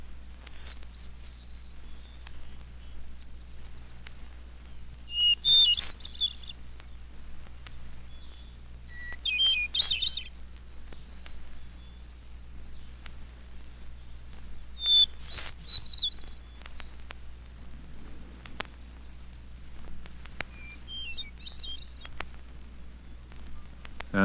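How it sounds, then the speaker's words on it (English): A hermit thrush sings several separate, high, fluting phrases spaced a few seconds apart, clear over a quiet background with a low steady hum. "It's my own favorite, the hermit thrush."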